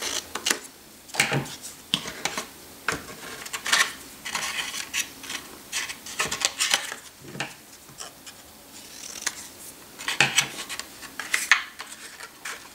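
Close, quiet snipping and rustling as a small paper tag is trimmed while decorating a Christmas frame, irregular scissor cuts and paper handling scattered throughout.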